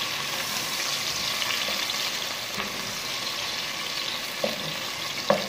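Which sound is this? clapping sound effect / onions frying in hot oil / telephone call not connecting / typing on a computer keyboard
onions frying in hot oil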